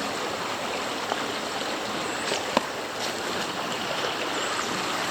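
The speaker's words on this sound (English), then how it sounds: "It's a really pleasant little stream here." A small stream in Shawnee State Forest babbling steadily nearby at a backpacking campsite, continuous water rushing with a few faint clicks and knocks.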